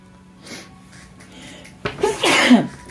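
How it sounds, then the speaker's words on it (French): An allergy sneeze bursts out near the end, a sharp sudden blast after a quiet stretch, close and fairly loud, with a faint voice earlier. "mes excuses si jamais j'éternue pendant la guidance"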